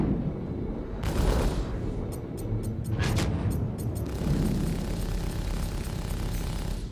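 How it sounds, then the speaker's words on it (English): Missiles strike during a space dogfight in Star Citizen, with heavy booming blasts and a run of sharp rapid impacts over a steady roaring engine drone. "Missiles coming in."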